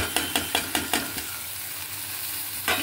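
Onion and tomato stir-fried in a pan: rhythmic spatula scrapes repeat about five times over a constant sizzle, then the sizzling continues alone before one more scrape, close and clear without speech.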